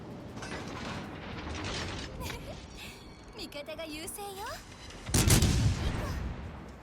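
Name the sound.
naval gunfire, shells fired in World of Warships: Legends video game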